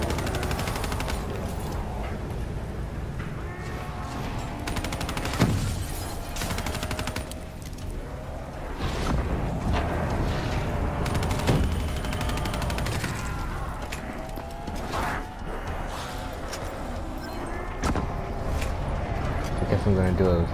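Dense, steady gunfire and blasts from a Call of Duty Black Ops 3 firefight rattle on almost without pause, loud and close, while someone talks over the battle.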